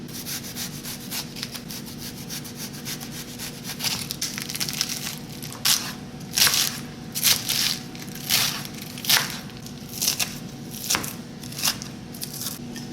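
Knife cutting banana peppers into rings on a board, a run of short crisp chopping strokes in an uneven rhythm, close and moderately loud over a steady kitchen hum, with no talking.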